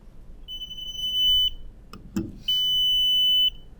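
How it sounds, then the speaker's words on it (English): Two loud, sustained high-pitched electronic beeps, each lasting about a second, separated by a short gap with a faint click. "So if we click on finding the camera and click find camera,"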